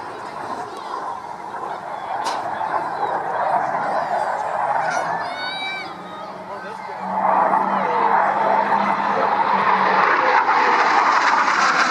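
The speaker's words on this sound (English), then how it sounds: "This aeroplane is a target tug aircraft." A propeller-driven target tug aircraft flies over an air show, its steady engine drone rising and swelling into a louder pass, with crowd ambience and a few bird calls around it.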